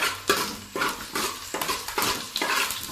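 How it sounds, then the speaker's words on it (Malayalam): Ginger, garlic and curry leaves being sautéed in a pan for a pork curry: repeated spoon strokes scrape and clatter against the pan in bursts over a light sizzle, close by. "നന്നായിട്ട് കുറച്ച് സമയം നമുക്ക് ഒന്ന് വഴറ്റിയെടുക്കാം"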